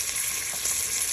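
Minced meat and onions fry in a pan with a brief, steady hiss and crackle, close and loud.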